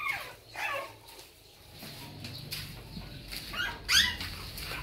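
A puppy being put in with its mother dog gives faint high whimpers and squeaks in short bursts, separated by quiet rustling, close but soft, with no talking.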